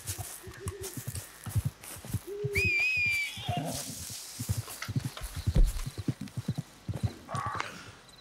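Horse hooves clip-clop in Red Dead Redemption 2 online, a steady walking gait heard up close, with a brief whinny and some whistled tones mixed into the game sound.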